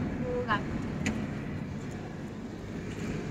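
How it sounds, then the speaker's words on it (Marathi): Interior of a moving car on the road: a steady low engine and road rumble fills the background, with brief faint higher tones early on and no clear distinct events. "मामा गाडी चालवतोय"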